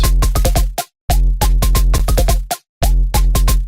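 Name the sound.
gun sub bass layered with drum sample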